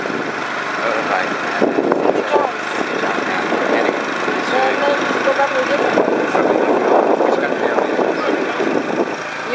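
A motorbike taxi engine drones through a ride in Entebbe, Uganda, its steady hum mixed with wind and road noise while a rider talks over it.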